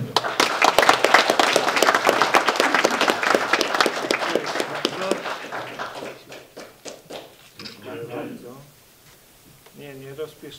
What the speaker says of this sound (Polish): Brawa dla pana wojewody.